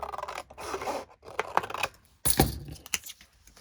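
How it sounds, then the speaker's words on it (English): Large scissors cut paper along a straight line for a journal planner, giving a series of close, crisp snips and rasping slices with short pauses between strokes. "This one is a straight line, so I'm using my large scissors."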